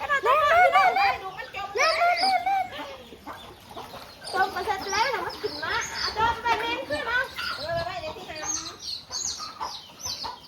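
Chickens on a farm cluck and call close by in repeated bursts, while people talk nearby over the birds.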